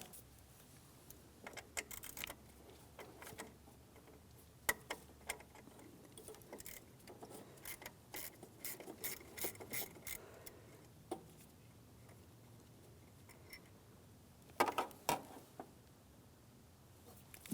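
A 10mm mounting bolt comes out of a power steering pressure line bracket on a 2003–2008 Toyota Matrix, heard as faint, quick ratchet clicks in bursts, close by and with no talk.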